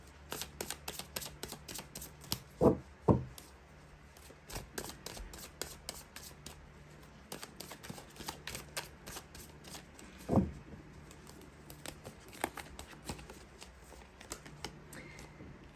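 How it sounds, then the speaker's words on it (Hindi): Tarot cards being shuffled and drawn from a deck by hand, a steady run of soft papery flicks and riffles with a few sharper taps and snaps, close and quiet, with no talking. "इस डेक से मैं सिर्फ 2 कार्ड्स ले रही हूँ"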